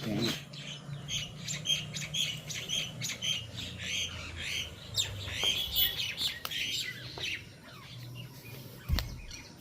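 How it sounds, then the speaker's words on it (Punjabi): Sparrows chirp busily near a staircase in a home, a dense stream of bright tweets and squawks, with low rumbling noise and a brief voice underneath. "ਲੈ ਆ ਸੀੜੀਆਂ ਨੇ ਵੀ ਚੀਂ ਚੀਂ ਕਰੀ ਪਈ ਇੱਥੇ"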